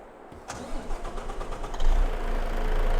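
Truck engine in Farming Simulator 22 cranking and catching, a brief starter whir followed by a medium engine settling into a steady, fairly loud idle rumble, with no talking.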